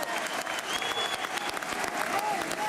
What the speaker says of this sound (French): Alors s'il vous plaît, respectez-le et applaudissez-le.